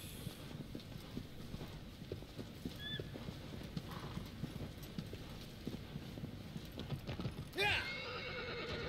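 Horse hooves clip-clopping at a steady trot in Shadow of the Colossus, followed near the end by a short, loud neigh; a voice speaks faintly underneath.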